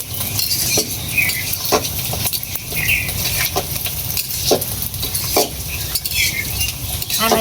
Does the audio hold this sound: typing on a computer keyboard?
no